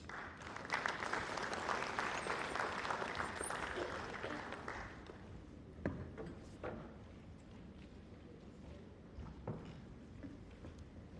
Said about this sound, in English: I think we need to clap a little better for Mr. Ngolokata